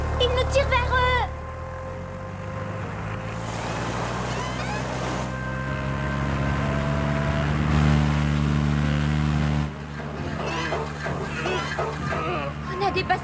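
A boat motor strains at sustained high revs in a tense chase at sea, a steady loud droning whine holding for several seconds under shouting voices.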